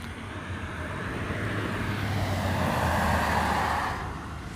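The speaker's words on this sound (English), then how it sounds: "There's hella cars" Steady broadband rumble of traffic on a neighborhood street late at night, a continuous wash of passing cars swelling slightly louder toward the middle before easing off, with no talk.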